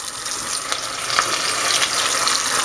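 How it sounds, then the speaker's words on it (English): Chicken flautas held down in hot oil, giving a steady, close, full hiss of frying with faint crackles throughout and no talking. "You just want to hold it down in the oil for a few seconds"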